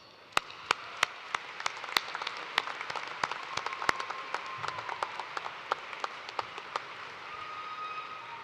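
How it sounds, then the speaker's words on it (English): Scattered, thin clapping rises from the crowd at a University of Toledo spring commencement ceremony, honoring alumni marshals. Individual sharp claps stand out against a faint room hum, fairly sparse and steady throughout. "Another round of applause."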